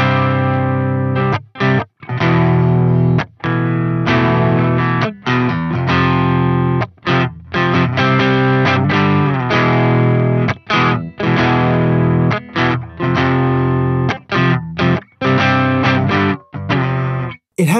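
Electric guitar with a humbucker pickup plays through a Soldano SLO-100 amp. The heavily distorted riffs are loud and close, with chugging rhythm and short stops between phrases, and no voices.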